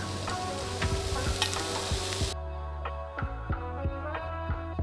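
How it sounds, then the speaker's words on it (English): A pan sizzles and crackles steadily while a utensil scrapes and taps against it, with the frying hiss dropping partway through as coconut milk goes in. "Now we're gonna add this can of coconut milk."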